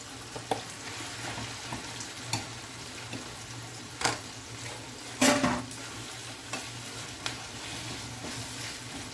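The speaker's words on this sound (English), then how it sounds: "Now I'm going to pour in the corned beef." Corned beef sizzles and fries in a pan with a little water, a steady soft crackle broken by several sharp scraping clinks of a utensil stirring against the pan.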